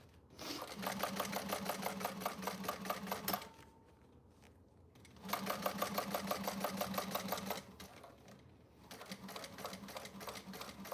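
Sewing machine backstitching in rapid bursts of fast, even mechanical stitching, three runs separated by short pauses, close and fairly quiet.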